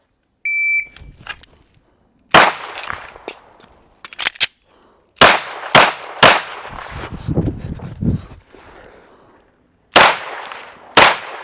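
A SIG P320 X5 Legion handgun fires in a speed and accuracy drill, loud sharp shots ringing close, some in quick pairs and some with longer gaps, after a short beep from a timer.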